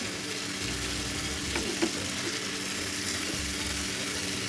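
Hilsa fish and boiled plantain frying in a pan, a steady close sizzle with a few stirring scrapes, no voices.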